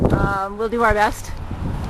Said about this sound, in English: it's a little windy today, so you might not be able to hear too much of what I'm saying